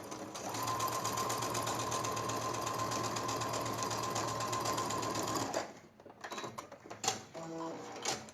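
A sewing machine stitching patchwork seams runs steadily at close range for about five seconds, then stops, followed by soft handling noises and light clicks.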